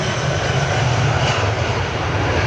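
Steady, loud broadband roar of an Embraer E2 jet's engines, a continuous even drone with heavy low rumble and no talk over it.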